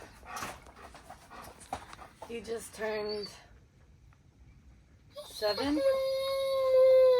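A seven-year-old German Shepherd on a Christmas camping trip pants softly while people talk, then breaks into a drawn-out, rising howl and whine that grows louder at the end.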